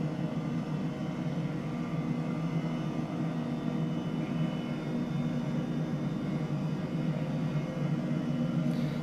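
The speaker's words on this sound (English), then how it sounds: "hover taxiing a helicopter" An H135 helicopter hover taxiing in Microsoft Flight Simulator, a steady, even engine and rotor drone with a low tonal hum that holds constant without any voices.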